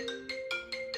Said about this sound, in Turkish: Pardon yine bir telefonum çalıyor.